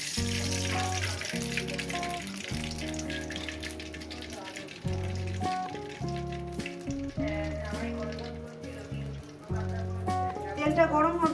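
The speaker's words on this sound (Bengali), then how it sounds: "কড়াটা গরম হয়ে গেছে, দিয়ে দেবো তেল" Oil hitting a hot korai sets off a steady sizzle and crackle, close and continuous, under a voice speaking over the cooking with music in the background.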